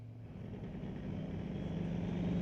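A 1972 Nova fitted with a Duramax diesel runs down a drag strip, a low engine drone that swells steadily louder as the car accelerates, heard alone without talk.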